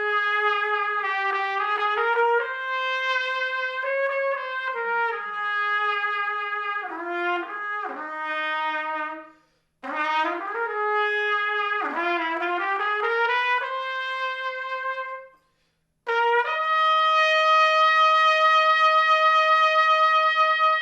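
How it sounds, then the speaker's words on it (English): A 1950 King SilverTone trumpet with a tight mouthpiece plays a bright melodic phrase, then a SilverSonic cornet with a deeper, mellower mouthpiece answers, played solo and close with short breaths between the phrases. "put the tighter mouthpiece on it and then contrast it with the mellower mouthpiece in the cornet"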